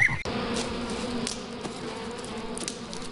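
Bees buzzing in the video game Bad Milk, a steady, dense insect drone that continues without a break for a few seconds, close and fairly loud, with no talking.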